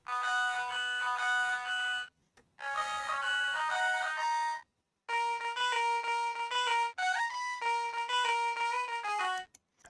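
A hyperpop beat's guitar send playing alone, bright plucked synthetic tones in quick melodic phrases, grouped into four bursts separated by short silent gaps, clear and fairly loud with no voices.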